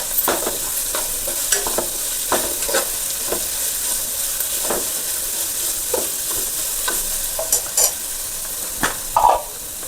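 Green chillies with coriander and mint leaves are stirred in a frying pan for egg fried rice, a steady close sizzle with repeated scraping strokes of the spoon against the pan, no voices.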